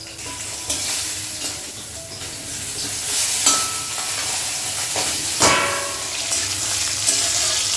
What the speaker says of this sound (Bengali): এই যে আমার ট্যাংরা মাছ ভাজা হয়ে গেছে